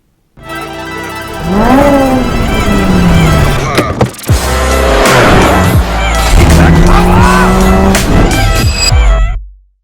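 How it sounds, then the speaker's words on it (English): Several Sports 1000 racing car engines roar and rev up together at a race start at Silverstone GP circuit, pitches rising and falling as the cars pull away loudly at close range. "Sports 1000 cars are getting their race underway now, at the drop of the Union flag"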